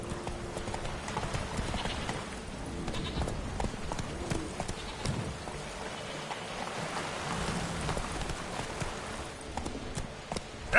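A horse named Roach trotting in a PS4 video game, steady rhythmic clip-clop hoofbeats over a soft rain-like hiss, with faint background sounds.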